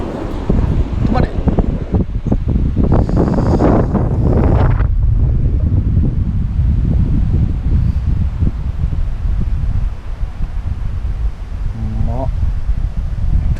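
Strong, typhoon-like wind buffets the microphone on a golf course, a loud continuous roar and rumble that persists throughout, with people briefly talking over it early on.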